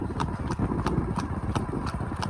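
Horse trotting with a steady, rhythmic clip-clop of hooves, close and fairly loud, heard alone with no talk.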